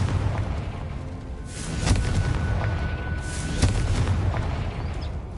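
Explosions from the Confringo fire spell in Hogwarts Legacy burst over a low, rumbling battle ambience. Two sharp, loud blasts stand out a couple of seconds apart amid a steady roar.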